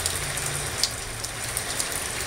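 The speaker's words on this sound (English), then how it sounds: "I'm staying inside for the day because it is raining." Steady rain falls outside on a wet spring day, a soft, even hiss with a few faint drip ticks, quiet and unbroken.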